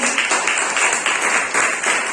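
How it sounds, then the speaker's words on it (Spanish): A church congregation claps in a steady, even rhythm, with a bright and fairly loud wash of hand claps continuing without pause throughout. "Denle un aplauso al Señor, que se lo merece."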